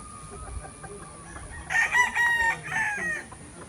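Roosters on a gamefowl farm crow loudly and close, a long ringing call rising after a quiet stretch of faint background clucking and farmyard murmur.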